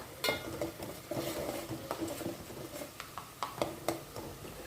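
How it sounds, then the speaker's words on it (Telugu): Salted onion paste frying in a pan while a spatula stirs it, giving quiet irregular scrapes and taps over a faint sizzle. "ఆనియన్ పేస్ట్ మట్టుకే వేసి బాగా వేయించుకుందామండి ఫాస్ట్గా వేగడం కోసం"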